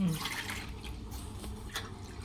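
Roasted gram water is poured into a pot of potato masala cooking for puri, giving a faint, continuous liquid trickle with light splashy drips at close range.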